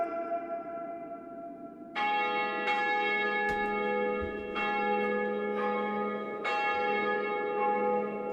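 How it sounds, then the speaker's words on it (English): Church bells ring out in repeated strikes, each ringing tone overlapping and sustaining the last, loud and resonant. "Ring the bells, sound the alarm."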